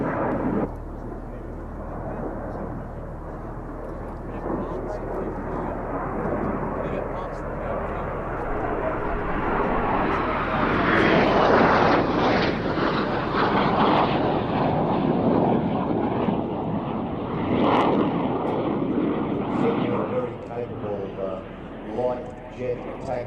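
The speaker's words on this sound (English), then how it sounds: "Aircraft, counterinsurgency and training machine." A counterinsurgency and training aircraft with two 7.62mm machine guns flies past at an air festival, its engine roar building to a loud peak mid-pass before fading, with a commentator talking over it throughout.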